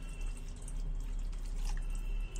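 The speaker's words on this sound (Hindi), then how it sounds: "अब हम इसमें पानी ऐड करेंगे।" Water being poured into a pan of cabbage and potato curry while it cooks at home, a steady wet pouring and dripping that runs alone and close by for the whole stretch.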